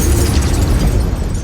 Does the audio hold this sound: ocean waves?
no